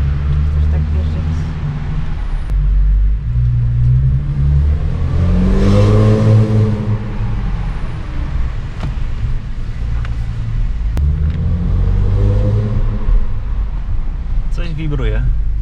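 An Audi S4 B8 engine and exhaust revs in rising and falling surges, with a droning, vibrating exhaust rumble underneath, while people talk over it inside the car.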